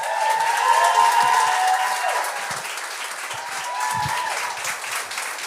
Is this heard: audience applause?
yes